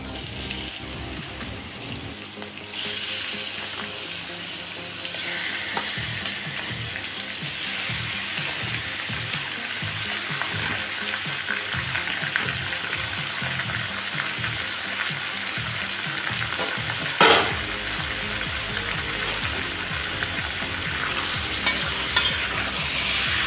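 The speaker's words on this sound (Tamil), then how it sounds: "நல்லா கறி எண்ணெயிலே நல்லா வதங்கி வரட்டும்" Country chicken frying with onions in oil for a chicken curry, a continuous close sizzle with frequent stirring scrapes and clatter of the spoon, plus one louder knock partway through.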